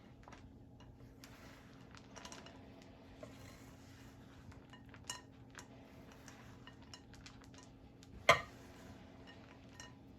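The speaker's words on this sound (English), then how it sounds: "We mix it" Chocolate chip cookie dough is mixed in a bowl with faint, irregular scrapes and clinks of a utensil, quiet and close, with one sharper knock near the end over a low background hum.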